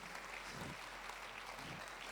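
Church congregation at a Passover seminar clapping together in steady, distant applause, a dense continuous patter throughout.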